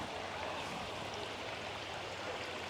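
Steady broadband rush of a stream flowing near a waterfall on an Alberta hike, a continuous even wash of water holding at a moderate level without a break.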